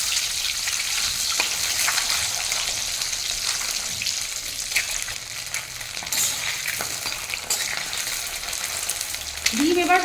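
Eggs frying in hot oil in a wok, a steady loud sizzle that runs throughout with occasional scrapes and clinks as the eggs are turned over, no talking.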